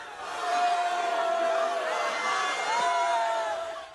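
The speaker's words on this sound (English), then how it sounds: "Students in the nearby crowd shouted at the officers" Crowd of students shouting and yelling at riot police using pepper spray on Occupy Davis demonstrators at UC Davis, a sustained, fairly loud wash of raised voices with a few louder cries rising out of the din.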